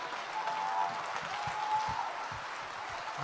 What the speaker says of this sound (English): Clap a little bit, because I'm on.